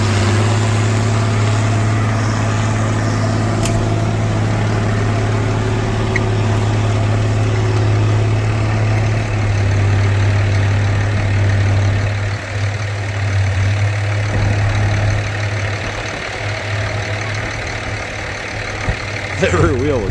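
A tractor pulling a five-bottom plow works a field during spring fieldwork, its engine a loud steady low drone that shifts and dips toward the end, with someone talking over it.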